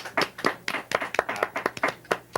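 Studio audience applauding during a live-streamed show, a brief burst of distinct hand claps at an uneven quick rhythm, fairly close and with no voices over it.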